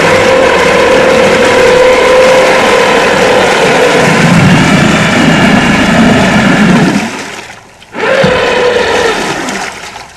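A 1965 Tecumseh boat motor converted to electric runs and churns water, a loud continuous mechanical whir with splashing that cuts out briefly near the end, then resumes.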